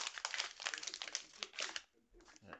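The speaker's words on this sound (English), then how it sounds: "So let's unwrap and see what's inside the tinny today." Wrapping being pulled off a beer can, a close, rapid crinkling and rustling that runs for a couple of seconds before trailing off into a few softer crackles.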